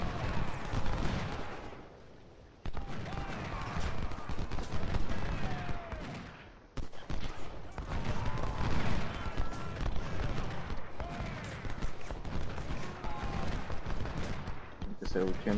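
Musket volleys and cannon fire rumble through a Civil War battle at Second Manassas in the Ultimate General strategy game, with dense overlapping shots and booms sustained throughout, loud and close.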